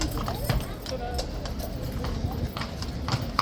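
Horse hooves clop steadily on pavement in a crowded street, crisp regular strikes close by with crowd noise and voices talking underneath.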